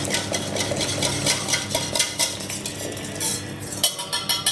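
A spoon stirs warmed milk and sugar for a Bucovina pască filling, scraping and clinking steadily against the bowl in close, even strokes with no talking.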